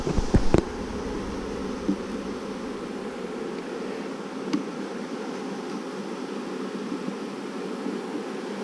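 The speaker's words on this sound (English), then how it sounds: "Got a lot of bees in this one" A steady buzz of honeybees in a crowded hive hums throughout, many bees droning close by, with a few brief knocks near the start.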